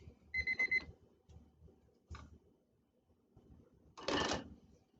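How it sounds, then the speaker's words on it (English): A kitchen timer alarm beeps in a quick burst of repeated tones while chicken cooks, followed by a short clack and a louder rustling clatter as it is switched off; quiet room otherwise. "Our timer is going off again here"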